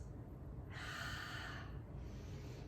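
A single breathy exhale lasting under a second, close and fairly soft, from a person doing a Pilates mat exercise, followed by a fainter second breath.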